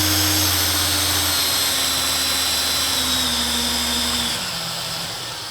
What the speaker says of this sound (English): So running at full speed